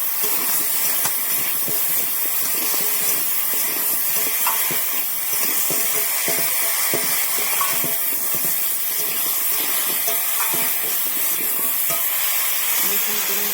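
Potato curry with cabbage fritters, cooked with little spice, sautés in a pan with a steady, close sizzling hiss and occasional stirring scrapes throughout, with no talking.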